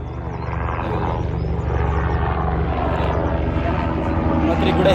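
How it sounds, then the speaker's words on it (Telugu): A helicopter flies near Yamunotri in the mountains, a loud, steady engine drone that swells slightly throughout, with voices underneath. "హెలికాప్టర్ సర్వీస్ ఉంది చూడండి."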